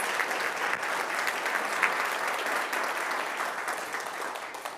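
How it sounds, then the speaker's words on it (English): Audience at a conference welcome session applauding caregivers and family care partners, a dense continuous wash of clapping from a roomful of people with no talk. "let's give them a round of applause"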